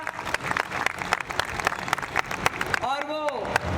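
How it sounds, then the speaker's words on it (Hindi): An audience applauds to welcome the Lieutenant Governor at a Civil Services Day awards function. The steady, dense clapping runs throughout, with a voice sounding over it near the end. "चाहूँगी एक बार जोरदार तालियों से अभिनंदन करें एलजी महोदय का।"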